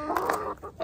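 Brief clucking from chickens close by while they eat pumpkin, a few short throaty notes in quick succession.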